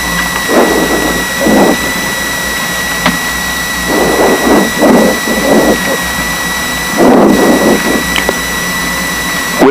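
A Piper Seneca twin-engine aircraft taxiing, heard from inside the cabin as a steady, loud engine drone with a constant high whine and repeated rumbling surges of noise.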